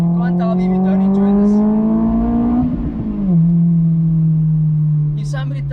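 A Honda S2000 with VTEC revs hard from close range, the engine note climbing in a loud sustained pull, then dropping and settling into a steady high drone, with someone speaking briefly over it.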